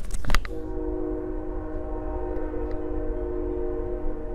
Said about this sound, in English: This train is sort of putting a crick in my vibe.